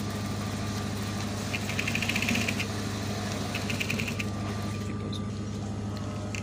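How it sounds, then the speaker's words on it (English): Sewing machine stitching a seam on a suit sleeve, a steady mechanical hum with a fast rhythmic needle clatter rising and easing in short runs, close and continuous, no voices. "So you continue your sewing."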